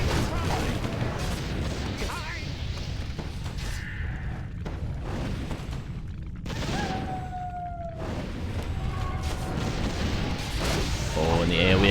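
Mortar team artillery fires in a Warcraft III match, repeated booms and crashing impacts scattered through dense battle noise, with a commentator talking over the action.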